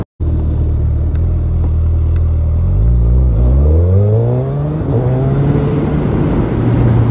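A 2021 Suzuki Hayabusa 1300 motorcycle engine rumbles loudly and steadily while riding, revving up through rising pitch as it accelerates, with constant wind and road noise throughout.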